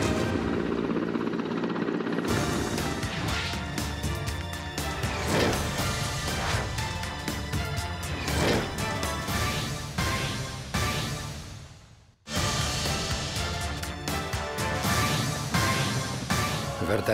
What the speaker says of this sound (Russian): Вертолет К-226Т – новая рабочая лошадка российской авиации.